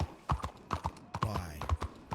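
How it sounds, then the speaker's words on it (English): A horse in the Red Dead roleplay video game trots with rhythmic clip-clopping hooves, heard close and fairly quiet, with a brief whinny-like sound in the middle. "The horse is running from over there."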